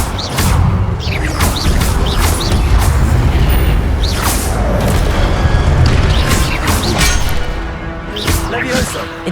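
Incendio fire spell casts in the game Hogwarts Legacy: repeated heavy booms and whooshing fiery bursts rolling over loud, busy combat noise, with a voice calling out over the action.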